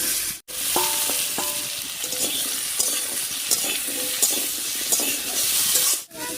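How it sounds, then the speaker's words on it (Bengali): Chopped sweet pumpkin sizzles in hot oil with fried mustard seeds and cumin, a loud, steady frying hiss with intermittent crackles and short tonal clinks, heard close and alone. "এবারে তেলের উপরে দিয়ে দিচ্ছি কেটে রাখা মিষ্টি কুমড়ো"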